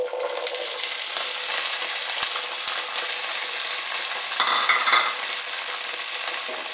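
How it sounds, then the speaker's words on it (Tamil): Shallots sautéing in a pan for chicken masala, a steady close sizzle with occasional stirring, loud and continuous throughout without any voice. "சின்ன வெங்காயத்தை ஃபர்ஸ்ட் நம்ம நல்லா வதக்கிக்கலாம்."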